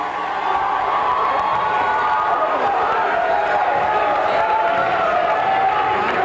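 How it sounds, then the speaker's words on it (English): Sustained crowd roar and cheering in a high school gym during a basketball game between New Rochelle and Scarsdale, loud and continuous with shouts mixed in and a commentator's voice running over it. "as the crowd comes to life."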